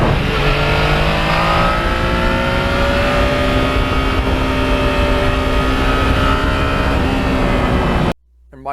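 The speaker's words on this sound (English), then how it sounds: "this bike has the one thing going for it, that motor" Yamaha MT-09 motorcycle engine revving hard and holding a loud, steady, buzzy roar with rising pitch for several seconds, then cutting off abruptly near the end. A voice is faintly present under it.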